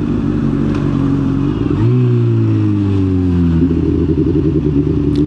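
A motorcycle carrying two riders rolls along a road in Romania, its engine loud and close with a steady drone that shifts pitch as it eases off and picks up again, no talk over it.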